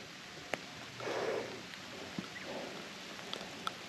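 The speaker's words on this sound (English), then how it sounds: "It started raining." Light rain patters softly on a muddy ridge trail in Hawaii during a hike, a steady faint hiss with a few close drips and rustles.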